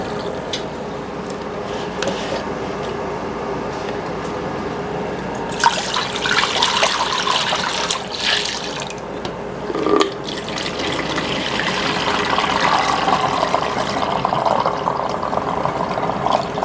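Berry jelly juice for American beauty berry jelly strains through clean cheesecloth, a close, continuous trickle and splash of liquid that swells louder in bursts, with light handling clatter and no speech.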